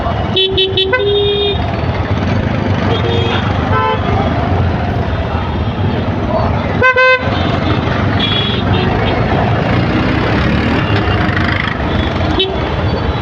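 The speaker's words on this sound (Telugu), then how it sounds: "చాలా ట్రాఫిక్ ఉంది." Heavy road traffic with cars, trucks and buses, a loud constant engine rumble broken by repeated horn toots and honks near and far, while people talk over it.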